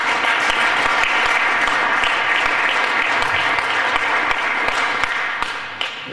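Sustained applause from an audience at an FDP party spring reception, a dense steady wash of clapping that holds for several seconds and eases slightly near the end.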